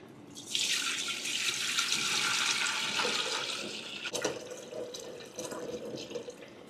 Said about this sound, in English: I'm just gonna get my pot rinsed out here